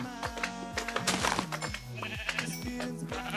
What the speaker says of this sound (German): Ich will keine Schafe hauen.